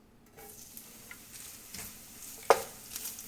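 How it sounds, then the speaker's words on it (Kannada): Grated coconut frying in hot coconut oil while being stirred in a pan, a faint steady sizzle with soft scraping strokes and one sharp clink near the end. "ಇನ್ನು ನಾನು ಇದಕ್ಕೆ 1 ಕಪ್ ಆಗುವಷ್ಟು ತೆಂಗಿನಕಾಯಿ ತುರಿ ಹಾಕ್ತಾ ಇದ್ದೇನೆ."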